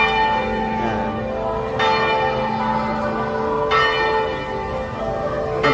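The church bell at Antipolo Church rings out loud and near, with clear strikes repeating about every two seconds and a long metallic hum lingering between them, with no voices.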